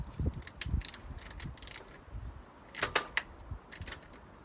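A ratchet tightening an ignition coil bolt on a Vauxhall Astra engine, close up, in short bursts of clicking separated by brief pauses and faint handling knocks, with no talking.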